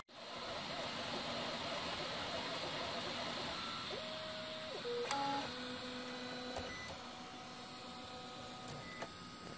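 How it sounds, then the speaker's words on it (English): A Printrbot 3D printer prints a top in blue filament, giving off a steady mechanical whir with stepper motors holding tones that shift in pitch as the head moves. No voices are heard. "there was a little bit of blue filament still left in the printer when I started"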